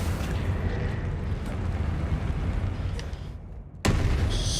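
A Confringo blasting spell in a Harry Potter video game erupts with rumbling, explosive roars, continuous and loud, ending in a sudden sharp blast just before the close.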